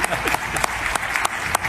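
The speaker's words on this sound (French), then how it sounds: "Monsieur Véron Mozengomba, s'il vous plaît, un applaudissement" Brief burst of applause from a large assembly at a football federation congress, dense steady clapping throughout with a few louder claps standing out.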